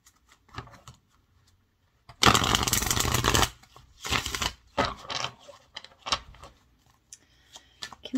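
A tarot deck is riffled and shuffled in quick bursts, one long loud rush followed by shorter flutters and soft card taps, close and without speech.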